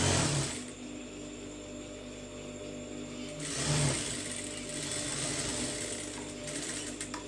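A sewing machine stitches piping onto a sleeve, running in a steady mechanical whir with a brief pause partway through, close and clear with no talking.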